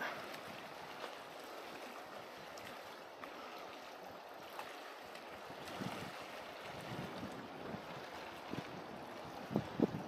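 Wind blusters against the microphone with a steady rushing noise, occasional gusts and light thumps, faint and outdoors at a campsite in La Vérendrye Park, Quebec.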